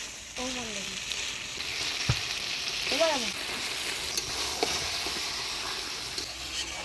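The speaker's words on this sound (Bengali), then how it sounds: "মশলাটা আমি ভালোভাবে কষিয়ে নিলাম, এবার মাংসগুলো দিয়ে দিই।" Pieces of chicken are added to a spiced masala and fry with a steady close sizzle, cut by a few clatters of stirring and a brief squeaky chirp.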